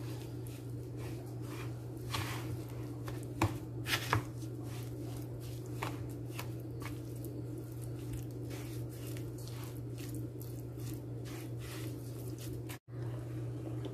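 Basbousa batter of semolina, oil and water is stirred in a bowl, giving soft, irregular wet squishes and faint scraping taps, quiet and close, with no talk over them.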